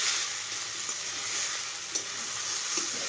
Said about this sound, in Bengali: এই যে দেখো এখানটায় মাংসের জন্য যে মশলা করেছি, আদা জিরে লঙ্কা পেঁয়াজ রসুন, সেই মশলাটা দিয়েছি আর বেশ ভালো করে একটু কষাবো।